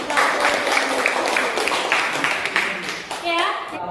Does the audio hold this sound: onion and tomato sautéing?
no